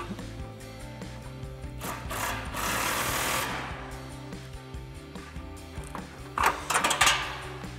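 Ratchet with an 18 mm swivel socket tightening a bumper bolt on a 2018-2020 Ford F-150, a rapid clicking rasp that swells into a steady burst and then a short final flurry of clicks, close and without speech.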